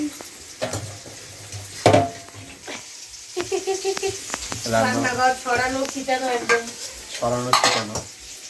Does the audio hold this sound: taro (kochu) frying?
yes